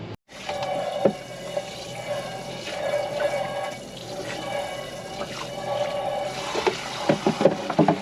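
Dishes being washed under a running tap inside a camper van, a steady close stream of water with clinks and knocks of crockery throughout, no talking.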